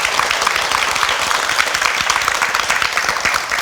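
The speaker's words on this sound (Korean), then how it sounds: "응원의 박수 한번 보내드리면 좋겠습니다" A studio audience applauds at a Korean television show taping, steady, dense clapping throughout at a constant, fairly loud level with no speech over it.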